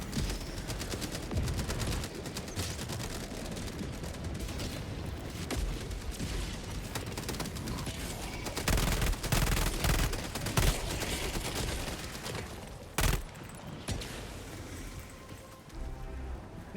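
A sentry turret in Helldivers 2 fires sustained, loud automatic bursts that roar almost without pause, with a dense crackle of impacts and one sharper blast near the end.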